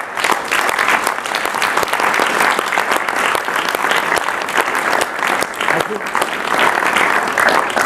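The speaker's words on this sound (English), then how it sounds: "I would just like to give us all a round of applause" Sustained round of applause from an audience at an annual meeting, dense steady clapping filling the room for about eight seconds without pause.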